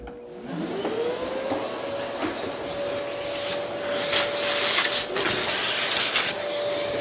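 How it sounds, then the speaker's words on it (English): A shop vacuum in a woodworking shop spins up with a rising whine that settles into a steady, close roar, broken by rattling bursts as debris is sucked in. "let me get my vacuum."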